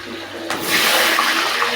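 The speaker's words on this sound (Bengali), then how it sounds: "মাংসের আলুটাকে ভেজে নিচ্ছি।" Potato pieces for a meat curry hit hot oil in a pan, with bay leaf, cinnamon, cloves and cardamom already added, bursting into a loud, steady sizzle that continues close by.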